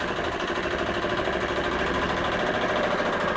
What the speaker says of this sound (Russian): Мотор работает на одном цилиндре